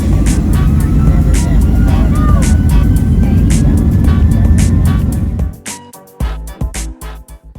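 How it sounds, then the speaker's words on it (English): A loud steady jet engine roar fills the cabin of a Southwest Airlines plane during takeoff from Long Beach, holding strong for several seconds before dropping away into quieter cabin thumps and rattles. "And so we took off from Long Beach"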